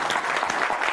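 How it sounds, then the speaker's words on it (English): Audience applause greets the host of a real estate seminar series, a dense, steady wash of clapping hands that fills the whole moment without any break. "I hope I justify that applause"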